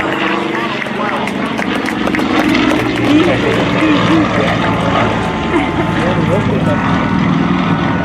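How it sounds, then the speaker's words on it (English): A Pitts Model 12 open-cockpit biplane performs aerobatics at the 2023 Canadian International Air Show. Its engine and propeller drone steadily at a distance the whole time, under continuous commentary from an announcer. "it's very distinctive biplane. It is an open cockpit"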